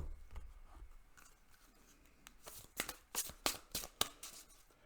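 Dark Goddess Oracle reading cards riffled and shuffled by hand, a quiet papery rustle that builds into several sharp, flicking card slaps near the end.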